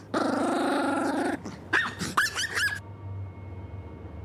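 Close by, a puppy gives a sustained throaty growl, then a quick run of high, squeaky yips and barks before falling quiet.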